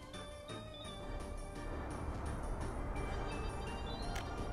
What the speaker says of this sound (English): There's the passenger train coming through.